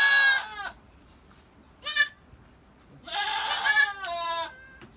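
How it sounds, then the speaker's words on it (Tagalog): Newborn goat kids bleat in a kidding pen on a goat farm, several short wavering cries, one alone and then a cluster of overlapping calls close by. "Ngayon meron na tayong 5 bisirong kambing sa kidding pen."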